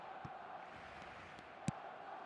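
A football stadium crowd in a football video game roars as a steady, distant wash of massed voices, with a few sharp thuds breaking through the sustained din.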